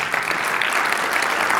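Audience applause following a conference talk on debugging microservices applications, a dense continuous patter of many hands filling the room at steady loudness.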